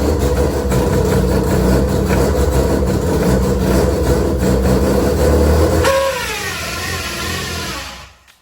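Mazda RX-7 with a rotary engine runs loudly and steadily up close, its rough, droning note holding for several seconds before dropping away and then cutting off.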